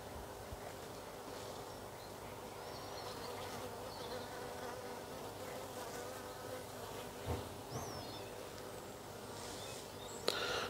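Honey bees, some fifty to a hundred of them, buzz around a beekeeper in a steady, dense, fairly faint hum that runs throughout, with a few faint chirps and one sharp click near the end.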